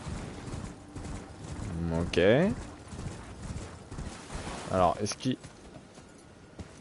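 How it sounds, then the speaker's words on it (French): Horse hooves clip-clop in the Elden Ring video game, a soft rhythmic trot running under someone talking in French throughout, with some ambient game sounds. "Ok, je peux appeler mon cheval là"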